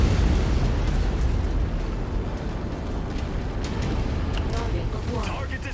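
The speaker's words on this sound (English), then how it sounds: "Yeah, we're getting hammered by the artillery." Heavy artillery barrage in Mechwarrior 5, a sustained low rumbling roar of blasts that is loudest at the start and then settles into a rolling background boom.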